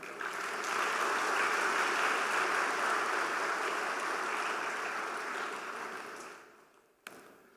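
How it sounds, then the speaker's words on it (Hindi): An audience at a spiritual discourse claps together in a steady, even roar of applause that lasts several seconds, then fades out, followed by a single faint tap. "अब ताली बजाओ।"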